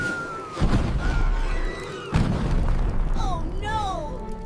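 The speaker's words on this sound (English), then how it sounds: "a massive explosion sends the trio flying" Massive cartoon blast as a rescue flare explodes in a 3D animation: a deep booming burst, then a second heavy thump, with rumbling debris, cartoon squeaks and whistling sounds following close and loud.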